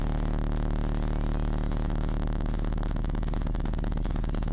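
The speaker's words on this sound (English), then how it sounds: "use another oscillator to multiply the filter." Synthesizer filter modulated by a second oscillator, rapidly opening and closing to make a dense, harsh, gritty buzz with fast fluttering texture, steady and loud throughout.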